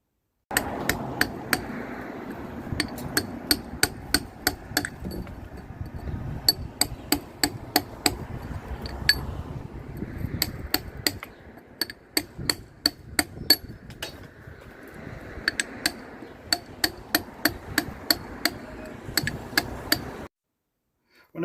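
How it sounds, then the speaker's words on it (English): Sharp metallic hammer strikes on a chisel against sandstone, struck in quick irregular bursts with brief pauses, close and loud. "level the stone up the best I can with the hammer and chisel"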